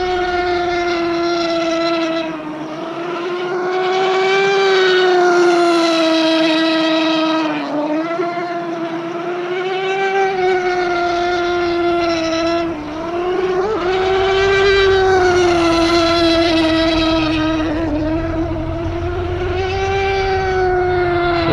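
A nitro RC hydroplane boat runs its engine at a high, steady, buzzing whine, close and loud, rising and dipping slightly in pitch as it corners and speeds up.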